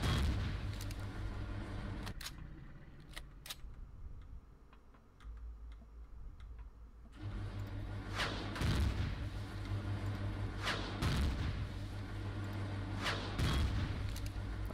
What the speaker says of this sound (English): Let's give him a plasma. Plasma cannon blast.